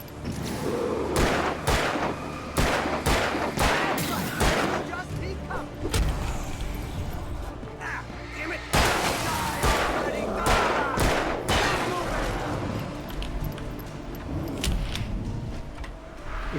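Gunfire in the game Alan Wake: a series of loud, sharp shots, some in quick bursts and others spaced apart, with booming blasts and mixed game sounds, while a person talks over parts of it.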